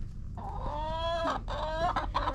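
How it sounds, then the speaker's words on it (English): Backyard hens cluck and squawk loudly at close range in a rising, agitated run of calls, with several harsh bursts overlapping one another and no people talking. "These chickens sure have a lot to say today."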